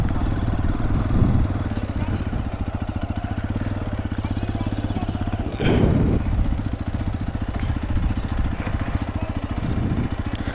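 A motorcycle engine idles and putters steadily up close at a two-wheeler parking spot, with a brief louder burst of revving partway through and faint clatter around it.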